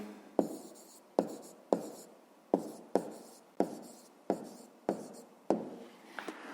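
Writing an answer by hand on paper for a fifth-grade maths exercise, with about eight distinct pen strokes or taps at a steady pace, each followed by a brief scratchy scribble, close and quiet.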